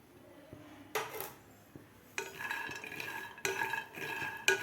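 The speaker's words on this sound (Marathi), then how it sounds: "पॅनमध्ये आपल्याला सुरुवातीला शेंगदाणे भाजून घ्यायचे आहेत" Peanuts dry-roasting in a pan over medium heat, stirred in bursts: rattling, scraping clatters come in short separate spells with quiet gaps between, close and moderately loud, no voices.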